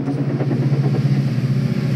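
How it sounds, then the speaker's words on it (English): Cartoon diesel engine Mavis running steadily, a continuous low mechanical drone with a throbbing mid-range hum throughout, close and fairly loud with no talk. "he sounds very different to Mavis, who is a diesel engine"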